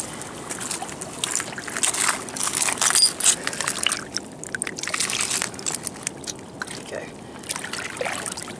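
River water sloshes and trickles as a small mudlarking find is rinsed by hand on a riverbank in the USA, close splashing in uneven bursts with a voice talking over it.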